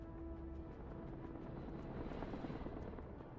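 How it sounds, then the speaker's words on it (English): Helicopter rotor noise from the real-time tactics game Broken Arrow, a steady, dense, loud chopping drone that holds throughout with no speech over it. "I hear a helicopter."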